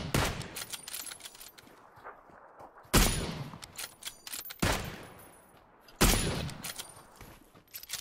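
Gunfire from the battle royale game PUBG comes in sharp, loud bursts, about four separate volleys a second or two apart, over a low ambient background with light movement sounds between shots.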